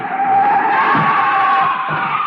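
Tires squeal in a long, loud car skid from an old-time radio drama sound effect, a sustained screech that wavers slightly in pitch before easing off near the end.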